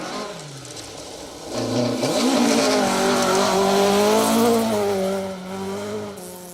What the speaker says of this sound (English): Sounds like a couple of cars are just having a little issue at the top of the hill